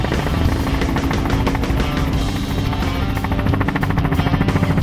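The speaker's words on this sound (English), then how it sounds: "But that means we get to go for another ride in a helicopter." Helicopter flying along a coastline, its rotor chopping as a steady rapid thump under a constant loud engine whine, heard from inside the cabin with no talk.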